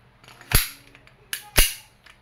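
Two sharp shots from an E&C airsoft Glock 19 pistol (John Wick Gen 3 style) ring out about a second apart, each a crisp loud snap with a short decay, heard close with no talking.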